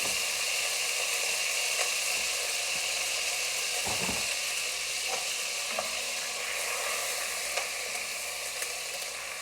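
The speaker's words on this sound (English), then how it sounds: "It is really sizzling." Frozen onions sizzle in hot grease in a chili pan, a loud, steady frying hiss lasting throughout, with a few brief stirring clatters mixed in.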